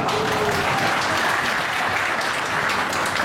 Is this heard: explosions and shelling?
no